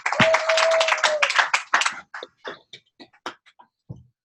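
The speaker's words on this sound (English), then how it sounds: "let's give him a big round of applause" An audience applauding after a speaker introduction at an alliance meeting, a dense burst of clapping that thins into scattered individual claps over a few seconds, with a brief tone at the start.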